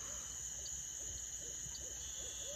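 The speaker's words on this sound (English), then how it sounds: "You can also hear a barred owl" Barred owl hooting somewhere out in a wetland sanctuary at night: a faint, distant series of hoots in a loose rhythm, heard over a constant insect and frog chorus, with no talk.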